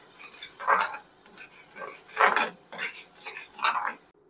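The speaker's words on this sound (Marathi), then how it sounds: "सर्व मसाले आपल्याला वाटणाबरोबर छान असे परतवून घ्यायचे आहेत" Spiced masala paste with Kashmiri red chilli being stirred and roasted in a pan for prawn masala, giving repeated clinks and scrapes of a spoon against the pan in short bursts, fairly close.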